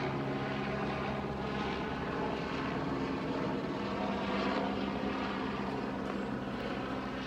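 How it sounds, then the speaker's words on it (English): Helicopter flying overhead outdoors, a steady droning engine and rotor hum with low pulsing harmonics, moderately distant and constant throughout. "Helicopter. Background noise."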